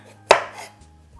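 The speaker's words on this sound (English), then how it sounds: "I will slice them, cut the ends like that, and then I will slice them into about 1/2 inch slices." A single sharp knife cut slices through a small eggplant on a cutting board, one crisp close chop followed by a brief softer scrape and near quiet.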